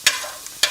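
Onions fry in leftover meat grease with bits of meat in a pan, giving a bright, steady sizzle broken by two sharp scraping stirs near the start and end.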